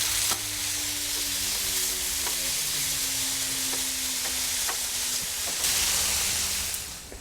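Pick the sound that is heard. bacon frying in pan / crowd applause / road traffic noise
bacon frying in pan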